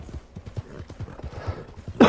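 Galloping horse hooves in the video game Red Dead Redemption 2 Online, a quick rhythmic run of close thudding clip-clops ending in a brief louder burst.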